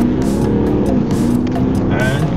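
An Audi A8 L Security W12 accelerating on a first drive: a steady, loud engine note swells and holds, with brief bursts of noise over it. An instructor talks over the engine.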